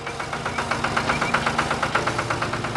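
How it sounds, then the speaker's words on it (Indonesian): A red tractor working in a field gives a steady, pulsing engine chug with an even knocking rhythm, close and continuous, with no voices over it. "Traktor merah beraksi di tengah ladang yang indah."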